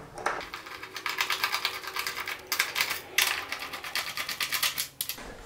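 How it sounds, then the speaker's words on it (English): Fasteners being removed from the fender assembly of a 2013-2018 Honda CBR600RR, heard as a run of quick, close ratcheting clicks that come in bursts with short pauses, loud and alone without talk. "you can go ahead and remove the four fasteners holding the fender assembly on"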